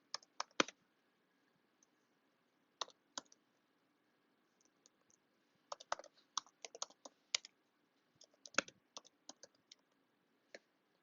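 Typing on a computer keyboard, sparse bursts of light clicking keystrokes separated by pauses, close and quiet in an otherwise silent room.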